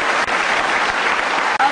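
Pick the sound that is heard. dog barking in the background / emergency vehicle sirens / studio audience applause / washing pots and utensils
studio audience applause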